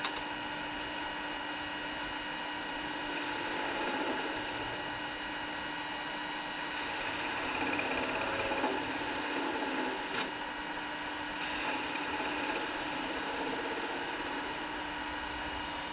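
A wood lathe spins as a devil's can opener tool cleans up the tip of a turned ornament, producing a steady whirring hum with scraping texture, continuous and close, without speech.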